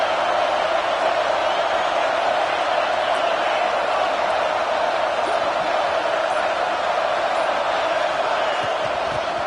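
Steady roar of a packed football stadium crowd at an FSU versus Miami college game, urging on the home defense during a red zone stand, a dense continuous wall of noise with no speech.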